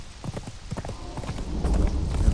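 A horse's hooves clip-clop steadily in the game Conan Exiles, a rapid clear rhythm of hoofbeats that grows heavier and louder toward the end, with no voices.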